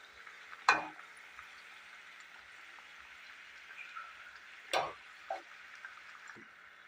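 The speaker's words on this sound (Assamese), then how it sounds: "এইদৰে আপোনালোকে ইলুটি শিলুটিকৈ এইদৰে মচমচীয়াকৈ ভাজিব।" Flour flower pitha fries in oil over a low gas flame, a soft steady sizzle throughout, broken by a few sharp clanks of a utensil against the pan.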